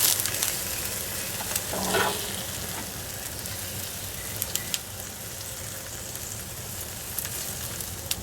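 Ribeye steak frying in a hot pan, a steady crackling sizzle running throughout at moderate level, with a brief stirring or scraping flurry near the two-second mark and no talking.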